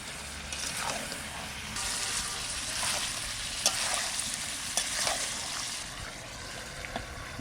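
Duck meat and ash gourd sautéing in oil in a wok, with a steady soft sizzle and occasional stirring scrapes, moderately close and alone.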